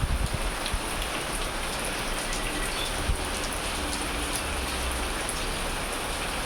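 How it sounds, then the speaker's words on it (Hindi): Heavy rain falling in Dehradun, a dense, steady close-up patter and wash of drops on surfaces, continuous throughout with a few sharper individual splashes near the start. "यहाँ का तो झमाझम बारिश लगी हुई है"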